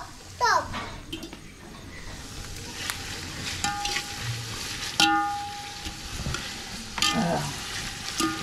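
Onions fry to brown for chicken biryani, a moderate sizzle with scattered clatter of stirring, while people, including a child, talk over it.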